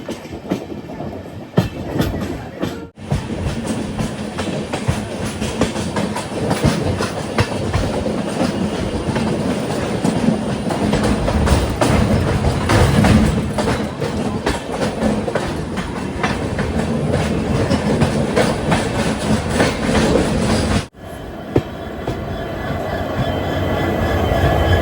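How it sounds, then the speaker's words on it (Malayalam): The Gomteshwara Express, hauled by three locomotives, descends a downhill grade between Bengaluru and Mangaluru with a loud, continuous rumble and clickety-clack of wheels, a few sharp clanks and brief changes as the car passes through, with no talk. "മൂന്ന് ലോക്കോമോട്ടീവുകളും പോകുന്നത് കാണാം."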